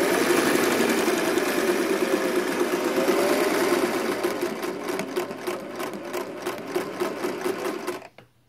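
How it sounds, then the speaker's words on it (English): A Singer 403A sewing machine stitches at a steady, fast pace, its close whirring motor and rapid needle clatter running continuously before slowing into a few separate clicks and stopping. "Okay, there was stitching."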